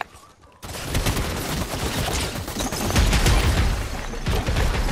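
Sustained rapid turret gunfire in a Fortnite match, loud and dense with continuous bursts running nearly the whole stretch after a brief quiet opening, with a voice speaking briefly underneath.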